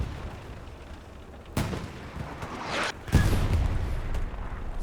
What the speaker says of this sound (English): trying to dodge the tank shells and the artillery